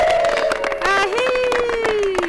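Wedding guests ululating (impundu) at a Rwandan ceremony: several high, wavering trilling voices rise over a busy crowd backdrop, close and continuous for a couple of seconds.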